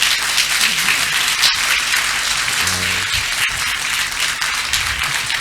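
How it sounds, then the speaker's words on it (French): Dense applause from an audience cheering a woman mayor at a trade fair session, steady and continuous across the whole stretch with no speech on top. "j'aimerais vous inviter une fois de plus à acclamer Madame la maire."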